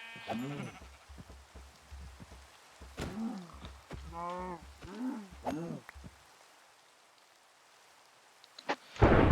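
Minecraft rain: a steady hiss runs under repeated bleating sheep calls, followed by a quiet stretch and then a sudden sharp crack of thunder.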